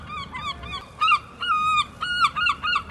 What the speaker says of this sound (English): Right along the river we found these seagulls feeding on scraps.